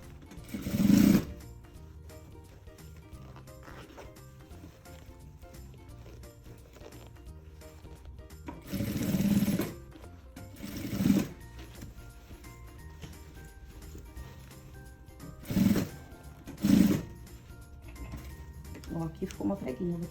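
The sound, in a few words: sewing machine stitching a maternity bag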